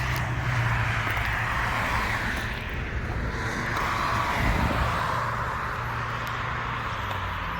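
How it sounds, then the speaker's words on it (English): Road traffic on a busy suburban road, a steady broad roar of vehicles passing nearby with a continuous, dense rush and no pauses. "It's more traffic than I expected."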